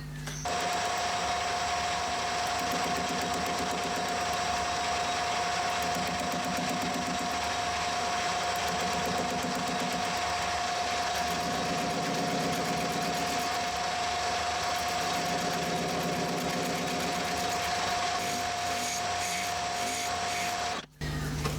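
A lathe turns a flat aluminium disc down to round, producing a continuous close mechanical hum with a steady high whine and faint cutting rasp that ends in a brief drop near the close.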